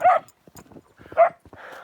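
A dog out in fresh snow gives short yips and whimpering barks in two bursts, close and fairly loud, with quieter whines and rustling between them.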